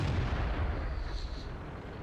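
Tank cannon fire in the World of Tanks video game from a tier X Czechoslovakian TVP 50/51, a heavy, dense boom that rumbles and slowly fades over a couple of seconds with no talk.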